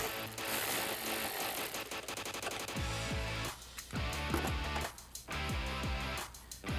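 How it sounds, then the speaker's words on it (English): A ratchet with a 10mm socket works a bolt loose from the frame of a 2019-2021 Chevrolet Silverado 1500, giving a close, loud series of quick mechanical clicks in several bursts. "to take that out we need a 10mm socket"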